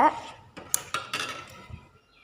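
A spoon stirring payasam in a vessel, several light metallic clinks and scrapes against the pot over a couple of seconds, close and fairly quiet.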